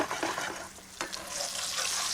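A fish fillet set down in a hot pan to crisp, giving a steady close sizzle and frying hiss with a brief sharper crackle partway through, no talking.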